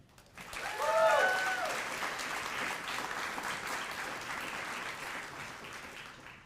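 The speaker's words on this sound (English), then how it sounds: "Let's give a round of applause to the graduates for completing this remarkable milestone and closing this chapter." Audience applause at a multicultural graduation celebration for the graduates, rising quickly to a full, steady clapping that holds at moderate level before easing slightly; a faint voice and a brief tonal sound appear early.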